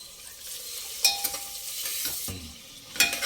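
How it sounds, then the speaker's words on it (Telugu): Onions frying in oil with turmeric added give a steady, moderate sizzle with a few sharp stirring clinks and scrapes, and no voices are heard. "ఇప్పుడు ఈ నూనెలో ఉల్లిపాయ ఎర్రగా వేగాలండి."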